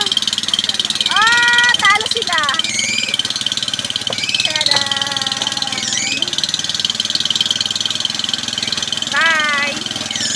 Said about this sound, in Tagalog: Ang ingay po ng makina.